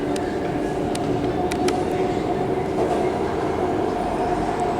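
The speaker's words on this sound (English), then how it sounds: "Anyways, here's the train. F train." A New York City subway F train passes, a steady heavy rumble with sharp metallic clicks and rattles running throughout.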